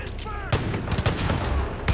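Far Cry 5 gunfire cracks out in several sharp, loud bursts in quick succession over a busy background, with a few separate reports near the start and end.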